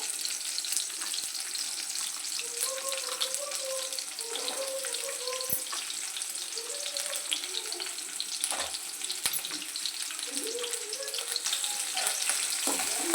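Ginger and garlic frying in oil for an egg and chicken curry, a soft steady sizzle with faint stirring throughout, close and alone.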